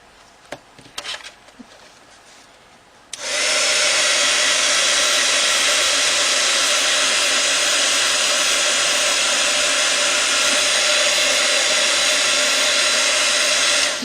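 A heat tool switches on abruptly after a few quiet handling clicks, then blows a loud, steady, close whooshing hum with a faint whine while melting embossing enamel during card crafting.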